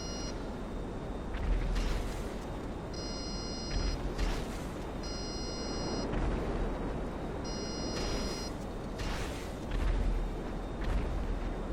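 Cannon fire and explosions in GTA 5 Online, a series of low booming blasts repeating every second or two with beeping tones between them, steady and moderately loud.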